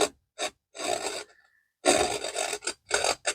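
A palette knife scrapes wood-grain texture into wet paint on a plein-air seascape canvas, in several close, raspy strokes of varying length separated by brief pauses.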